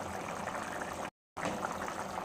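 Mutton curry simmering in a pot, a steady bubbling hiss of cooking liquid, close and continuous, with a brief cut to silence midway.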